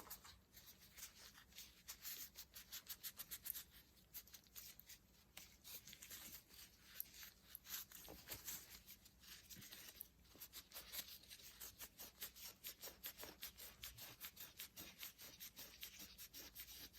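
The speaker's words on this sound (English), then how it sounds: "I'm gonna rub as much of this off as I can." A cloth rubs wood stain off a wooden wand turned from a log on a lathe, a soft steady scrubbing in quick back-and-forth strokes, faint and close, with no talking.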